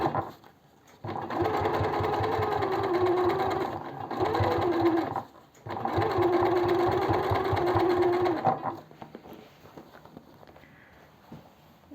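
A domestic sewing machine stitches fabric in three bursts of fast, even mechanical whirring separated by short pauses, close and clear, before falling quiet with faint handling noises.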